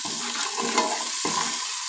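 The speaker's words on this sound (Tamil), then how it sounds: "இஞ்சி பூண்டு கருவேப்பிலை போட்டு தான் வந்து தாளிச்சிட்டு" Ginger, garlic and curry leaves sizzle steadily in hot oil, a continuous crackling fry up close, with a brief stir partway through, for village-style country chicken curry.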